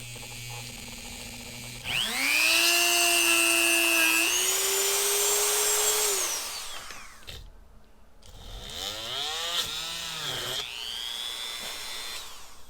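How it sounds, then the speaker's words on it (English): A power drill whines up in pitch and runs steadily for several seconds, stops, then spins up again in two shorter, wavering bursts, loud and close. "So let's drill a little hole here."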